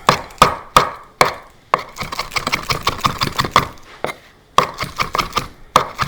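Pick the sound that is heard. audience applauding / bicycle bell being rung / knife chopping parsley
knife chopping parsley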